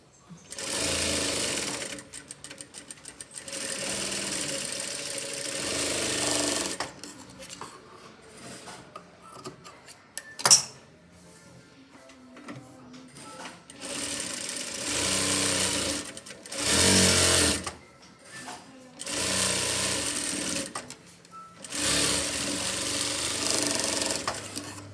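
A sewing machine stitching a blouse runs in several fast, rhythmic mechanical bursts separated by short pauses, with a sharp click in the middle. The sound is close and clear.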